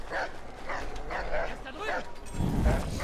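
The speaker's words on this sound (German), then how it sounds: "Du kannst dich nicht verstecken, wenn der Hund dich sieht." A dog barks in the video game Assassin's Creed III, a series of short repeated barks and yips under steady talking, with a low rumble near the end.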